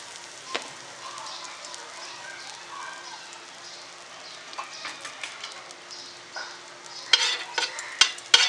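A faint, light sizzle as a pinch of asafoetida hits hot oil ready for shallow-frying chicken liver, with soft scraping clicks that grow sharper near the end.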